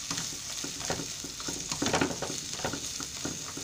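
Cuaresmeño chiles sautéing with onion and garlic for a Mexican beef steak dish crackle and pop close up, a busy frying sizzle with rhythmic stirring scrapes that swell briefly near the middle, with no voices.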